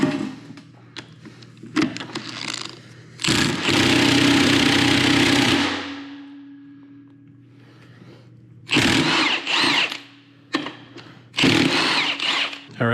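Power tool removing the fifth gear retaining bolts on a high-mileage VW 02J transmission, heard as loud, close whirring bursts of varying length, one long sustained run winding down, separated by quieter pauses.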